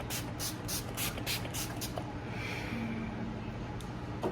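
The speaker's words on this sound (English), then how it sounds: "take my setting spray and do a test spray" Makeup setting spray is given a test spritz, a series of short, sharp hissing bursts in quick rhythm, close to the microphone, followed by quieter rustling.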